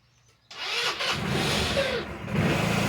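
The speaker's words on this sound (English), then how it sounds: "let's start the motor" A GY6 Chinese scooter engine bursts into life after a brief quiet moment, then runs with a close, loud, steady idle that rises slightly toward the end.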